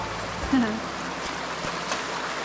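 A creek flows in a broad steady rush throughout while gold panning goes on at Louis Creek, loud and close, with a voice murmuring faintly under the water.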